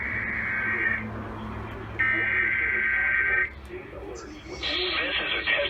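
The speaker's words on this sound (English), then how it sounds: "This is a test of NOAA radio's warning alarm device" A NOAA Weather Radio warning alarm tone sounds during a routine weekly test, coming as steady, loud, sustained electronic tones in separate bursts, with a spoken announcement over the radio between and beneath them.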